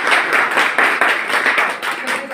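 An audience at a village book distribution event claps in a brisk, uneven patter of hands, close and fairly loud, for a couple of seconds.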